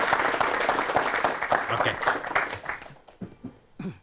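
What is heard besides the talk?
audience applause welcoming a guest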